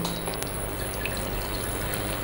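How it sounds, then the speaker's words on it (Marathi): About a glass of water pours steadily into a pot on a gas stove, a continuous splashing trickle with a few small clinks, close and fairly loud. "इथे गॅसवर एक मी भांडं ठेवलेलं आहे आणि त्यामध्ये आपल्याला पाणी घालायचं आहे"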